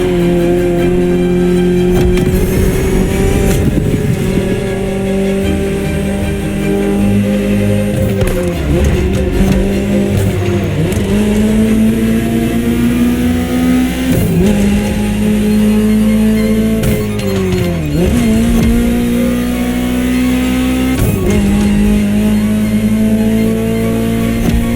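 Ferrari supercar engine in The Crew Motorfest racing game, a loud continuous roar that climbs through revs, dips sharply at several gear shifts and climbs again, with no voices.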